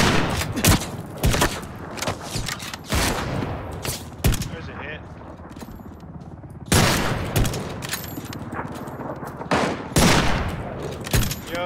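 Rapid gunfire bursts in a video game, a mix of automatic fire and single shots, loud and close, repeating in clusters while players talk over the action.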